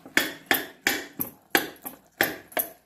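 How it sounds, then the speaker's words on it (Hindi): Sharp metallic clatter as mutton liver is stir-fried for a homemade khatakhat recipe, seven or eight crisp strikes in a loose, uneven rhythm, close and fairly quiet, with no voices. "ठोक नहीं रहे हैं, कलेजी भून रहे हैं, कलेजी कलेजी बना रहे हैं, इसीलिए इसकी आवाज ऐसी हो रही है।"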